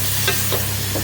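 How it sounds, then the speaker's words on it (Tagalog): Pork fat fries and gets stirred in a pan, a loud continuous sizzle with a few scraping stirs over a low steady hum. "Pretohon pa ito guys yung taba."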